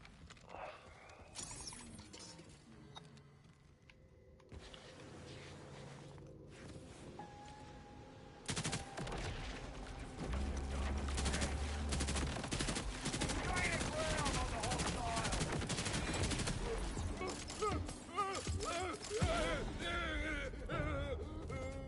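Heavy automatic fire from the beast gun in Borderlands 4, a dense loud barrage of rapid shots that builds in the second half and continues to the end, with game effects layered over it.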